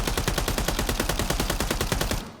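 Rapid automatic gunfire from a rifle in the Warzone video game, a steady burst of evenly spaced loud shots over about two seconds before cutting off abruptly.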